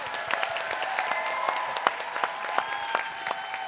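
A television singing-competition audience at a live final applauds a contestant, sustained crowd clapping with sharp individual claps popping through, continuous and fairly close for the whole stretch.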